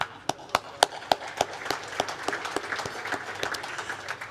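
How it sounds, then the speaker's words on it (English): An audience at the launch of the Housing Supply Association claps, starting with several loud, sharp separate claps that merge into a steady, moderate patter of applause from a roomful of people. "So give yourselves a clap."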